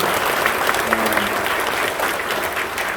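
A congregation claps in a thick, sustained round at a church dedication and pastor installation service, with steady broadband patter and faint voices underneath.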